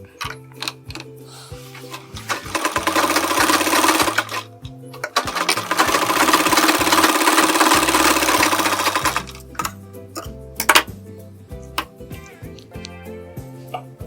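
A sewing machine stitches a sleeve in rapid mechanical bursts, running in a long steady stretch in the middle with shorter start-stop runs before and after, close and alone without talk.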